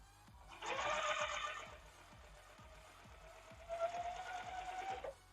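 A sewing machine stitches folded fabric creases in two bursts of rapid mechanical whirring and ticking, close and fairly quiet, with steady clicking between the runs and no speech.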